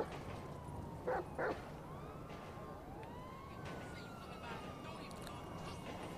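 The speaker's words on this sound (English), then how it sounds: "What are you barking at?" A dog barking in Grand Theft Auto 5, two quick barks early on, fairly close, with a distant wailing siren sweeping through the background.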